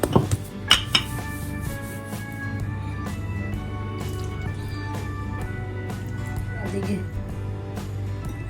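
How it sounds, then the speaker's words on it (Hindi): Flour-dusted dough for pizza parcels is rolled out by hand, giving soft repeated rubbing and scraping sounds with a few light clatters of utensils near the start, all under steady talk. "मैदा हमने डस्ट कर दिए, इसको बेल लेंगे।"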